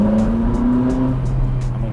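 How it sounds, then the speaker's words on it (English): A Ferrari 458 Spider's V8 engine drives through central London, a loud, close engine note with a tone that rises and then shifts as the car moves, heard alone without talk. "just listen to that V8"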